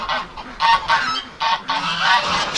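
A goose sitting on a nest of duck eggs honks loudly at close range, a series of harsh, nasal calls in quick bursts with brief gaps between them.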